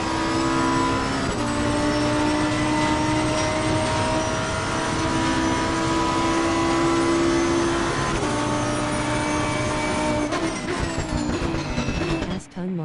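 An Aston Martin race car engine drones loudly in Assetto Corsa Competizione during a long race, a sustained steady roar with shifting pitch that holds for several seconds before cutting off sharply at the end.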